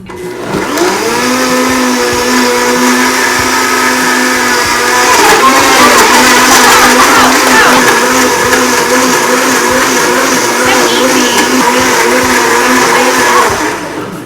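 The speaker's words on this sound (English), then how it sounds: "Let's see how that Blendtec handles that." A Blendtec blender blending a green smoothie, a loud close motor whine running steadily throughout, shifting pitch partway as the speed rises, with no talking over it.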